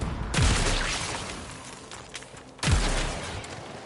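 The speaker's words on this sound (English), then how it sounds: "There should be useful detritus falling from the explosion" Two heavy blasts from an explosion in the video game Warframe, each a sharp booming onset followed by a dense, rumbling roar of falling debris, loud and close with no talk.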